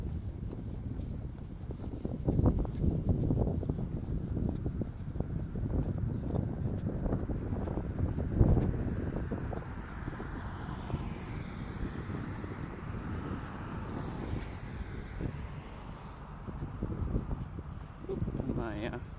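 Wind gusts buffet the microphone with a constant low rumble and roar on an outdoor city walk, while someone speaks under the noise.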